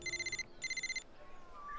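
Phone ringing with an incoming call from a wife, two bursts of electronic trilling ringtone, then a softer fading tone, moderately loud in a quiet setting.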